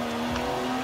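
Jaguar XES engine in the racing game Forza Horizon 4, a steady, moderately quiet drone holding one pitch for under a second, with no talking.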